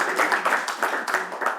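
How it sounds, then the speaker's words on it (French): Applause from attendees at a municipal council meeting, a short burst of clapping from a modest crowd with uneven, fairly close claps and no talk over it. "On peut applaudir."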